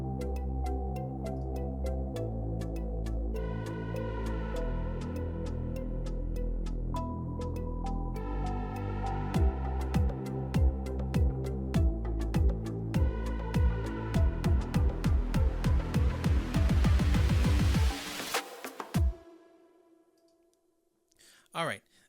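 Electronic buildup produced in REAPER, with a Reese bass supplying low-end ambience under rhythmic synth notes and clicking percussion that speeds up into a dense rising roll, then drops to near silence.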